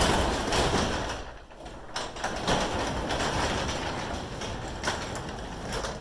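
A LiftMaster Elite Series 8500W wall-mount garage door opener runs, giving a continuous mechanical rumble and rattle of the moving door with a brief dip and a few knocks along the way, close by and without speech.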